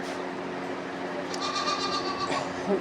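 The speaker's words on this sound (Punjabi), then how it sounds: "ਤੁਹਾਨੂੰ ਦਿਖਾਵਾਂ ਮੈਂ ਸੰਨੀ ਵਗੈਰਾ ਆਪਣੇ ਡੰਗਰ ਖਾ ਰਹੇ ਨੇ" Goats and other farm livestock eating, with bleating calls mixed into a loud, continuous background of rustling and farmyard noise.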